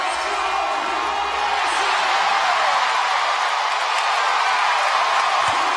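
An arena crowd at the CrossFit Games roars steadily behind a women's clean and jerk speed ladder lift, a dense wall of cheering, whoops and clapping with a commentator's voice running underneath.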